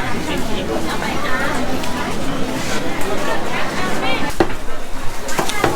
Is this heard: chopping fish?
yes